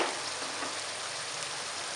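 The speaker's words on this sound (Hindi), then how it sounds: "तमाम मसालों को अच्छी तरह भून लेना है हमने।" Ground spices like red chilli, black pepper, coriander and turmeric fry in hot oil for a chickpea curry, giving a steady, even close sizzle with no talk.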